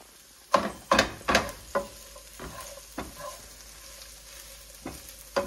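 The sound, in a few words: onions frying in a Teflon pan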